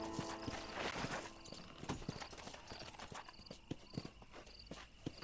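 Horse hooves clip-clop in the Red Dead Redemption video game, a steady walking rhythm of crisp hoof strikes over a quiet outdoor ambience, fairly faint and with no talk.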